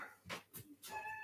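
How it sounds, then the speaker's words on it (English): A feral cat that has turned friendly gives a couple of short, close meows with brief pauses between them, at moderate volume and with no voices over them. "feral cat that has now become my buddy"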